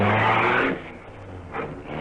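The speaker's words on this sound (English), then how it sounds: "There's a car coming." Car engine roaring close by at night while being chased by police, loud at first then dropping back, with a second swell of engine noise near the end.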